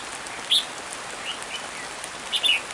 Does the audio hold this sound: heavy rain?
yes